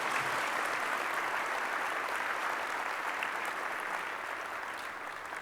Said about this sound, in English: please join me in a warm welcome and round of applause for Michele Flournoy and Joe Votel.